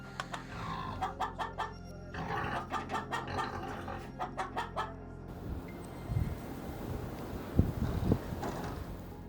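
Chickens cluck in quick, repeated bursts close by, followed by a quieter stretch of rustling farmyard noise and scattered thumps.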